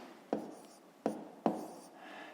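Pen strokes writing out numbers for a fifth-grade long division exercise, heard as three crisp, close scratching taps spaced across a quiet room with no talking.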